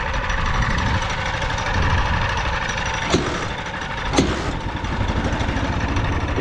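A homemade motorcycle engine starts and runs with a rough, uneven idle, punctuated by two sharp clacks or pops partway through; no one speaks.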